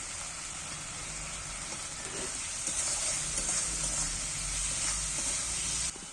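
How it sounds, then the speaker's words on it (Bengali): Egg dish with vegetables, salt and turmeric being stirred in a hot pan, giving a continuous soft sizzle and hiss with faint scraping, growing slightly louder midway. "এইবার আমি সবটা নেড়ে চেড়ে নিচ্ছি একটু হলুদ দিয়ে দিচ্ছি"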